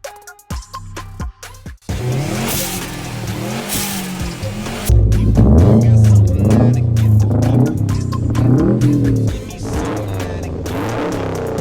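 A Subaru WRX STI engine revs hard and loud, rising and falling through the rpm range with rough, throaty roars and a boomy low end, close and sustained after a brief choppy start.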